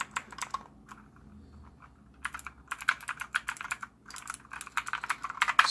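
Clicky mechanical keys on a Redragon K551 Vera keyboard clatter in quick bursts, broken by a short pause, then rapid typing resumes, close and crisp.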